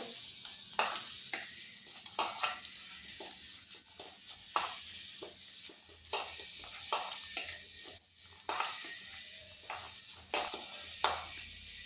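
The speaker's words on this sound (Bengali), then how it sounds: "ওই পেঁয়াজের সাথে পাউরুটি মিশে যাবে। এটা একটু এরকমভাবে কষতে কষতে মাখতে হবে।" Bread is stirred and mashed together with onions in a pan. Repeated close scraping strokes and light utensil clinks come in short, irregular bursts with quiet gaps between them.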